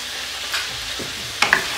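Potatoes frying in a karahi for aloo karahi, a faint steady sizzle with a couple of soft stirring scrapes and small clinks near the end.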